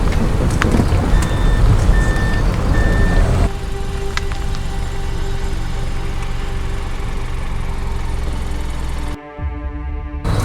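Steady, evenly spaced reversing beeps from a vehicle backing up sound in the first few seconds over a loud idling engine rumble, then the beeping stops while the engine keeps running.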